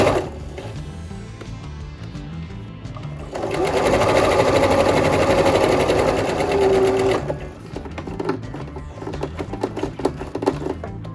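A sewing machine stitches a fabric face mask. Soft handling sounds give way to a fast, steady mechanical whir for about four seconds, then quieter stops and clicks follow, all close up with no talking.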